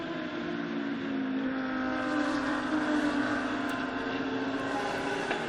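GT3 and GT4 race cars from Audi and Porsche lapping the Shanghai circuit during a Blancpain GT Series Asia race, a steady, dense engine drone held at an even level throughout with no talk.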